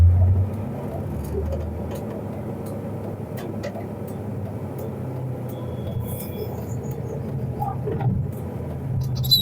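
A learner driver's car pulls away slowly as the clutch is eased out, a steady low engine drone and road rumble continuing evenly throughout with faint background noise.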